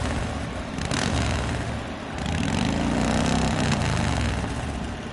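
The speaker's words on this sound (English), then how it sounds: "Listen to that engine purr." A wrestler's motorcycle, a "wild hog", idles steadily at a steel-cage wrestling event, its loud continuous low rumble swelling slightly midway with no talk over it.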